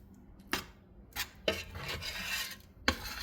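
A metal utensil scrapes the scorched bottom of a soup pan in four or five short, quiet, close strokes, with faint rasping between them and no talking.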